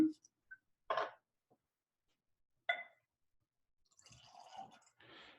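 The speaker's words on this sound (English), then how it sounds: "Let's get it in the glass and see what this is all about." George Dickel Bottled-in-Bond Tennessee whiskey is poured from the bottle into a glass: a few faint, brief liquid splashes and clinks separated by quiet gaps, then soft rustling at the end.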